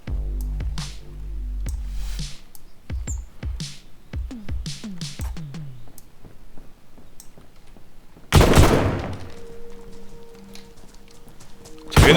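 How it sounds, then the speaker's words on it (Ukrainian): Distant gunfire in the survival game DayZ: a scattered series of sharp, cracking reports at uneven intervals, followed by a louder, denser burst near the end. "Хтось ще стріляє."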